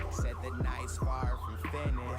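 A police siren in an Android game wails, sweeping up and down in rapid repeated cycles, steady and moderately loud.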